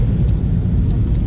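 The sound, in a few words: airplane cabin noise during flight to Calvi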